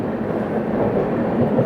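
Coimbatore express (11014) rolling through Bor Ghat toward Karjat in monsoon rain, a steady broadband rumble of wheels and carriages, close and continuous with no speech.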